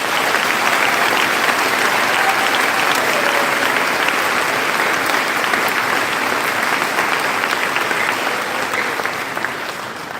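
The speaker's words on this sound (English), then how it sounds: "Please join me in a collective round of applause for this impressive list of accomplishments" Sustained loud applause from a large audience at a high school graduation, dense and even throughout the ten seconds and easing off slightly near the end.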